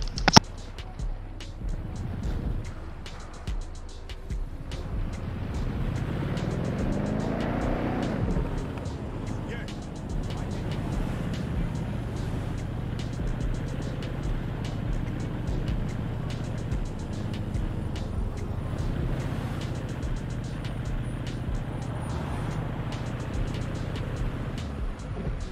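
A car drives itself in an open-world video game, its engine a steady low hum with a brief rising rev partway through, under background music and game ambience.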